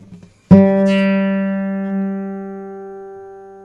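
One acoustic guitar string plucked once, ringing clearly alone and slowly fading away.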